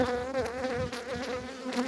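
Honeybees hum in an open beehive holding honey, pollen and brood, a close, dense and continuous buzz with wavering pitch from many wings, with no talking.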